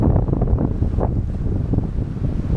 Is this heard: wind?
yes